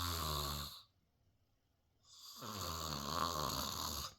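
A man imitating snoring with his voice, two long, loud, rattling snores close to the microphone separated by about a second of near silence.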